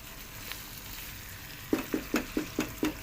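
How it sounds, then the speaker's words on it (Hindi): Minced keema fries in a pan with onion, garlic and ginger, giving a steady soft sizzle that is then broken by six evenly spaced scraping stirs of a spoon near the end, with no voices. "अच्छे तरीके से हमने प्याज के अंदर कीमे की बुनाई करनी है।"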